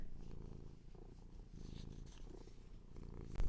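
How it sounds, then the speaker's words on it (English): A cat purrs softly and continuously up close, a low rhythmic rumble with no talking, ending in a brief louder bump. "They're very stubborn cats, aren't they?"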